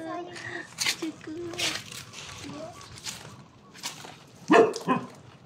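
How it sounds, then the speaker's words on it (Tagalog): A dog barks and yips in short bursts close by, while people talk and a voice is heard. "Tahol ng tahol dyan pagka ano."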